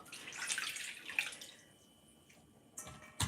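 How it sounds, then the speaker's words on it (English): A chayote squash is rinsed under a running kitchen tap, giving a soft, steady splash and hiss of water that fades partway through, then a couple of brief louder splashes near the end. "we're gonna rinse this as well"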